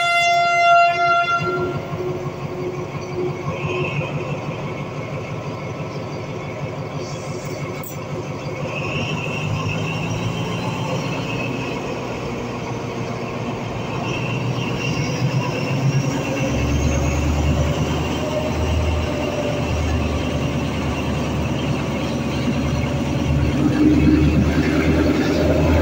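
Thai passenger train 447 running from Surat Thani to Na San, heard from on board as a continuous rolling rumble of wheels on track with a horn blast near the start, steady and fairly loud throughout.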